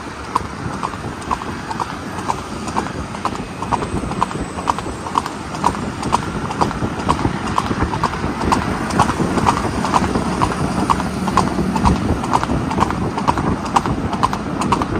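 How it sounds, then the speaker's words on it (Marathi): Several horses trot along, hooves clip-clopping in a fast, steady, close rhythm that carries on without a break, with faint background noise. "बघा आपली घोडी कशी पळती"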